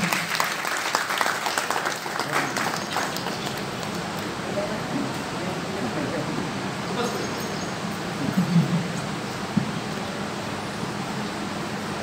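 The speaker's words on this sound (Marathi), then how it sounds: "एक जोरदार टाळ्या त्यांच्यासाठी." Audience applause fills the hall, a dense sustained clapping that stays steady across the whole stretch, moderately loud and diffuse, with a faint murmur of voices underneath.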